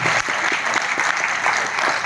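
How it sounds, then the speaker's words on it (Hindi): Audience applause at a corporate presentation, dense steady clapping throughout, loud and close with no pause. "तो एक शानदार ताली इस प्लान के लिए होनी चाहिए।"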